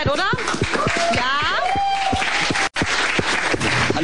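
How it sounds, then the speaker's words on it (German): A TV studio audience at a birthday show claps in a short burst of close applause, with voices talking over it. "Das ist doch mal ein kleiner Applaus wert, oder?"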